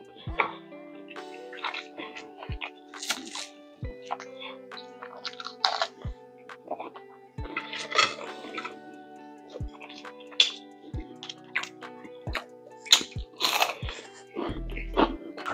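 Grilled pincho skewers being bitten and chewed close up, with repeated wet crunching bites and smacking across the whole stretch, under occasional speech.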